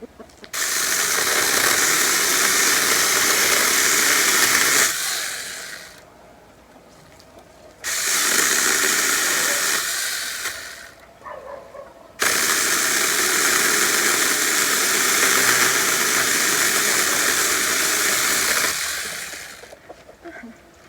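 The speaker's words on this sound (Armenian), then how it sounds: "մեկ-մեկ որ ընդհատումներով եմ կտրում, չեմ ուզում շատ տաքանա էլի այդ սղոցը" A power saw cuts in three separate bursts, with short pauses between them, loud and close, its steady motor whine dropping away each time it stops.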